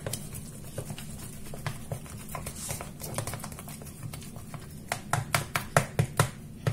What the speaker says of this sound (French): Je mélange, je mélange. Bien comme il faut quand même. Voilà, juste à la cuillère.